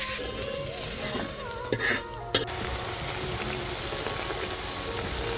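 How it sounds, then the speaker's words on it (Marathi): A little oil goes into a hot pan while a drumstick curry is cooked, giving a steady, close sizzle with a couple of brief utensil clinks partway through. No voices are heard. "आता थोडंसं तेल टाकीते."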